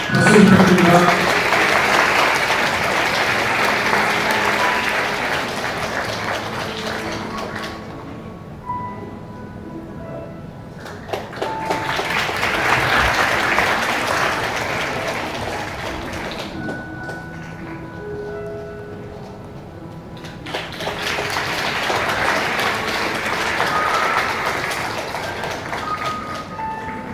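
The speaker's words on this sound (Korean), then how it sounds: "박수 부탁드립니다." Wedding guests in a convention hall grand ballroom applauding the bride and groom, three sustained bursts of clapping separated by quieter gaps, with background murmur and music beneath.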